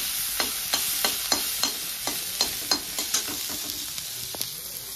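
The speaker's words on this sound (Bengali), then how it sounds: "আমি এখন রান্না করছি, শুঁড়িমারা ফুল ভাজা করছি" Shuri-mara flowers frying in a pan with a little salt, a steady close sizzle broken by evenly spaced scrapes of a utensil stirring, with no voices.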